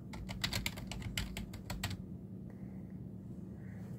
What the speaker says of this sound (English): I'm gonna type stuff in to show you